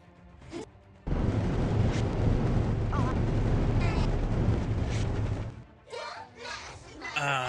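Airstrike explosions in the Victory Belles naval video game, a loud, dense roaring blast that holds for about four seconds and then cuts off, followed by scattered short bursts of sound.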